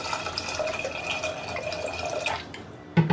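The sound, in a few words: washing toor dal with water in a pressure cooker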